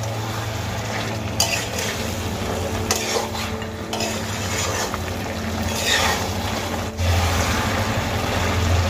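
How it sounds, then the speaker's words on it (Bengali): Malabar spinach and hilsa fish head curry being stirred in a pan with sugar, a steady close scraping and bubbling stir with occasional utensil knocks against the pan over a low hum. "এবার খুব ভালো করে নাড়িয়ে নেব"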